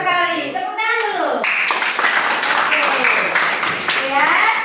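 A school class claps hands together after a teacher's prompt, a loud close burst of clapping with children's and adult voices calling out over it and around it.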